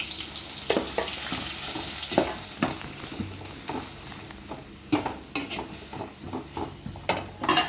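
Onions fry in a pan for masala boti curry, a soft steady sizzle punctuated by scraping and tapping of a spoon stirring against the metal.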